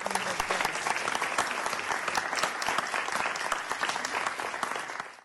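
A crowd at a community celebration marking 50 years claps loudly and steadily for several seconds, a dense, close wash of applause that fades at the end.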